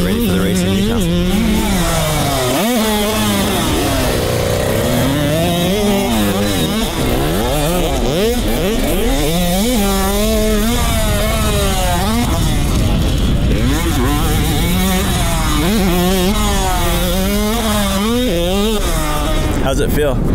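KTM 85 SX dirt bike ridden hard during suspension testing for a supercross race, its high-pitched two-stroke engine revving and shifting continuously and loudly, with voices talking over it.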